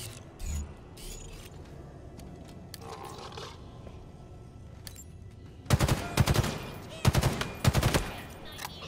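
Several sharp rapid-fire bursts from weapons in the shooter Halo Infinite, arriving after a quieter stretch of low ambient game noise with a few scattered clicks, the bursts loud and clustered near the end.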